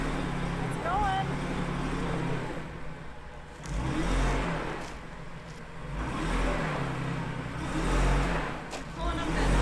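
A car engine revs and roars out on the Bonneville Salt Flats in Utah, swelling and easing in several waves with steady wind noise, while people talk nearby.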